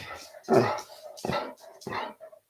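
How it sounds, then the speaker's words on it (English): Dog barking and acting up indoors: a few loud, close barks and yips in an uneven rhythm, mixed with whimpering, with short gaps between them. "The dog is acting up."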